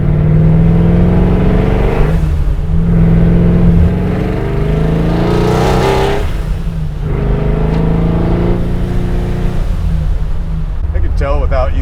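A 680-horsepower procharged Nova restomod with an automatic transmission pulls hard from inside, its engine surging loud through several rising gear pulls while people talk over it.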